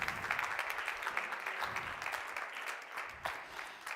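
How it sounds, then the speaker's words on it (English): Applause from an audience at a startup competition night, cheering the four finalists; steady clapping from a moderately distant crowd, fairly quiet, with a few sharper claps standing out. "I would like to give a big applause to the four finalists already for this first step"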